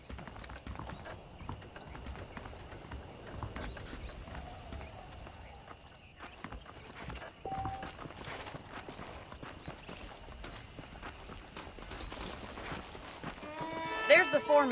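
Horses saddled up near a foreman's office in the video game Red Dead Redemption clip-clop at a walk in soft, steady hoof beats under a low ambient game bed, faint throughout with a sharper sound near the end.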